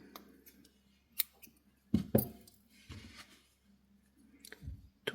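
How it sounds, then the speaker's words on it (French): Scissors snip beige crochet yarn close up, a few distinct sharp cuts with small clicks between, in a quiet room with no talking. "Et je vais couper le fil beige."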